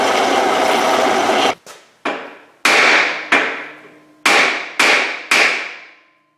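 A cast lead hammer made from wheel weights is trimmed with a string of sharp, ringing strikes. The blows are loud and close, come at an uneven pace of roughly seven hits, each trails off, and they follow a stretch of steady grinding noise.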